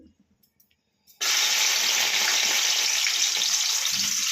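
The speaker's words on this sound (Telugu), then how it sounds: "చుంకాయ ఆయిల్ బాగా వేడైపోయింది, వేస్తున్నాను" Boiled gokarakaya hits hot oil with a sudden loud, steady sizzle that starts after a second of near-silence and continues close and unbroken to the end.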